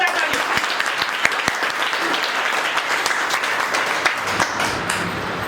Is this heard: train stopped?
no